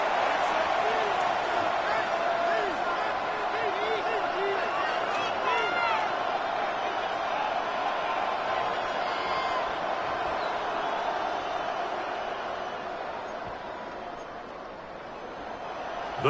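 A video game American football stadium crowd keeps up a steady, loud roar throughout, with a commentator's voice talking over it.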